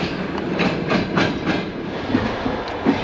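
A post-Soviet sleeper train in Kyrgyzstan rolls along, its carriage rumbling steadily with a soft rhythmic clickety-clack of wheels over rail joints, heard from inside the car.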